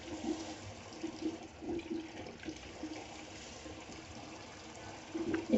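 Water from a tap runs steadily for hand washing, a faint, continuous splashing stream with a few small gurgles and surges, heard alone at low level.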